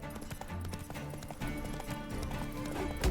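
Roach, a horse in The Witcher 3 Wild Hunt video game, gallops with rapid rhythmic clip-clop hoofbeats throughout, mixed with game sounds and effects.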